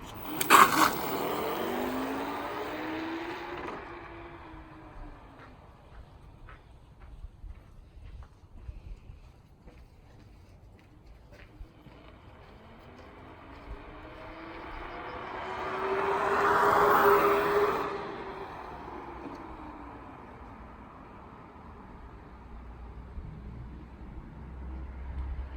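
Zapcool 3.6 electric scooter ride on dual motors, with rising and falling motor whine over heavy wind rush, swelling twice as speed builds.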